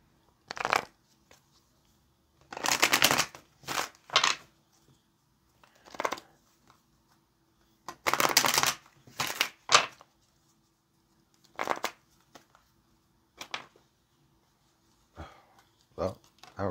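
Tarot cards shuffled and handled by hand in repeated short riffling bursts with pauses between them, close and crisp, with no talking.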